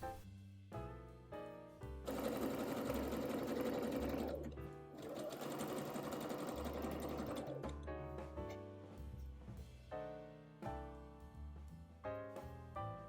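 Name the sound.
sewing machine stitching dress neckline facing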